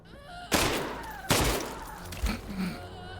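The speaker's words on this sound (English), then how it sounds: "I feel like I'm shooting like a Star Wars blaster" Recoil-free gun firing in a video game: a few sharp, punchy shots spaced about a second apart, close and fairly loud over low ambient game sound, with no one talking.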